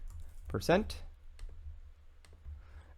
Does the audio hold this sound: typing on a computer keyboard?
yes